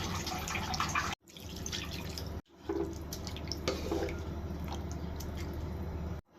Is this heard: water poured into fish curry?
yes